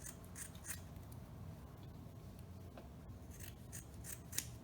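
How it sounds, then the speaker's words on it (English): Scissors snipping through tulle fabric while making a dog tutu, a quiet, steady cutting and rubbing texture with a sharper snip near the end, no voices. "here I'm going to cut approximately 4 inches like this"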